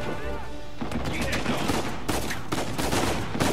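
Gunfire in Uncharted 4 on Crushing difficulty, a dense fusillade of overlapping shots rolling on throughout, with bursts sharpening near the middle and end, mixed with busy game noise and some voice underneath.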